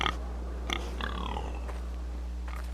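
A pig in the Game of Thrones video game gives a few short oinks and squeals over a steady low hum, moderately close and with no talk.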